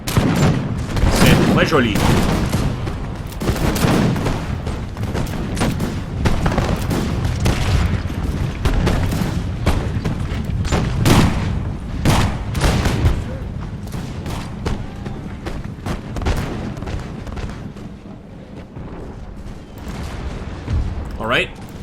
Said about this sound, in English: Let's see if we can go ahead and open fire on the Schweizer Infanterie.